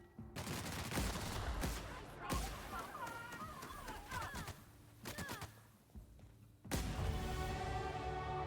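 Gunfire from a weapon in the video game The Outer Worlds, rapid volleys of loud shots in bursts with short pauses, a final heavy burst near the end, with brief speech between the volleys.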